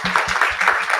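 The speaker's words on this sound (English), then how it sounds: "Let's give her a clap for that." Short burst of audience clapping at a national civic space protection summit, mixed with low voices and lasting about a second.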